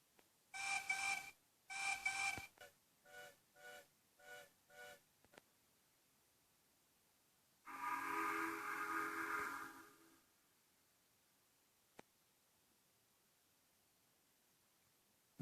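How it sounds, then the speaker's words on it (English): Steam engine whistles ring out: two loud shrill blasts, a run of shorter toots, then one long sustained whistle, with silence between them. "Both engines were surprised when they heard 3 whistles."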